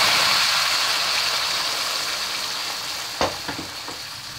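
Tempering spices crackle and sizzle in hot oil for a drumstick dal rasam, a steady close frying hiss with a few sharp pops near the end, no voices.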